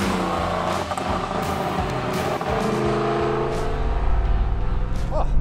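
A 1987 Chevrolet Camaro IROC-Z on the road, heard from inside as a steady engine drone with road rumble that swells toward the end as it accelerates, loud and close throughout.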